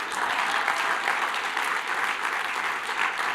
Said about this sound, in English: We should have clapped.